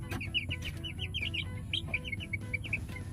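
Pet chickens chirping and clucking, a busy run of short high calls from several birds over a low, steady background hum.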